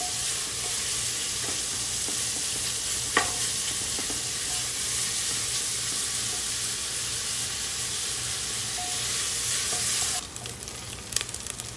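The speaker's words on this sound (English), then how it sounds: "I'll fry the onions till they are light brown." Onions fry in hot oil in a pan for sai bhaji, a steady close sizzle and hiss that runs without pause, with a few faint stirring knocks and no voices.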